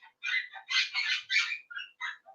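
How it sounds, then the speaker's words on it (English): A pet bird chirps and warbles in a quick series of bright, close calls with short gaps between them. "he's chirping a lot and making just noise"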